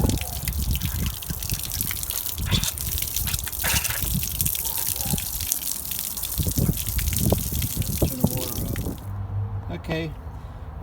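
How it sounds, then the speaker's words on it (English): Water from a hose gushes and drips out of a Roadtrek camper van's water heater during a flush, a close, continuous splashing flow with intermittent drips, ending abruptly near the end. "Take a hose. Stick it in and it flows right out."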